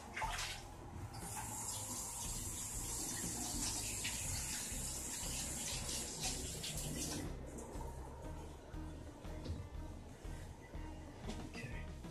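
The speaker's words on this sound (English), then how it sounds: "let me wash my hands." Hands being washed under a running kitchen tap while making homemade sushi, a steady close gush of water that flows continuously for most of the clip, then eases slightly toward the end, with no talk.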